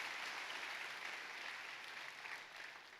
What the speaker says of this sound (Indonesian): Kasih tepuk tangan yang meriah buat Tuhan kita.